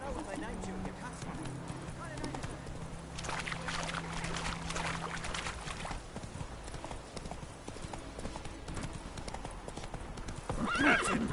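Roach, Geralt's horse in The Witcher 3, gallops with a continuous close clip-clop and an audible neigh, while voices talk over the hoofbeats for much of the stretch.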